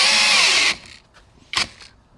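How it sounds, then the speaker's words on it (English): A cordless drill bores into solid wood in a loud, high whine for under a second, then stops, with a brief second burst of noise shortly after. "We're also drilling through the holes that are already there, so when it hits the solid wood, it does not like it"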